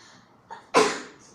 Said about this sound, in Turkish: Bu aralar ben akşamları ve sabahları hapşırıyorum arkadaşlar burada.